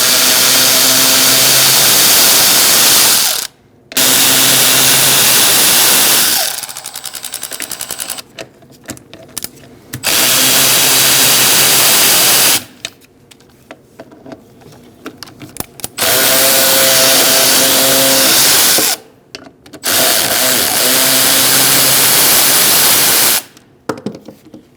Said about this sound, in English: Let's remove these bolts.